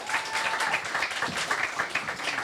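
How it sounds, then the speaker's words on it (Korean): Live studio audience clapping to welcome a book's author onto a talk show, a steady dense patter of hands filling the whole stretch at moderate loudness without speech. "큰 박수로 환영해 주시기 바랍니다."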